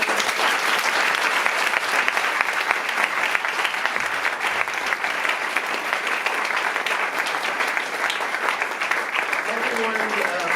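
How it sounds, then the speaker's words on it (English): Steady, dense applause from a large audience at a science slam award ceremony fills the whole stretch, loud and continuous without pause. "I'd like all the speakers to come up. We're going to clap for them."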